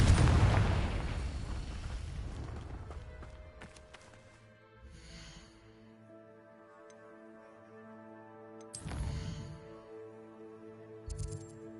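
A Confringo fire spell bursts in Hogwarts Legacy with a loud, booming explosion that decays over a few seconds into a sustained musical tone. Two shorter, softer blasts follow later, with no talking.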